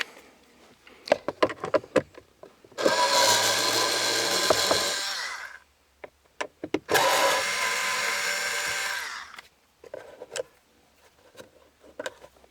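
A power driver whirs steadily in two long bursts, backing out a pair of screws from a Jeep XJ center console, with short clicks and handling noises before, between and after.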